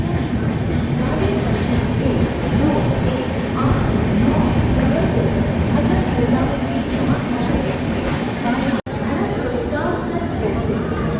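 Mahakaushal Express running at speed, a continuous loud rumble of wheels on rails with occasional squeal, heard from inside the train, with faint background chatter of passengers.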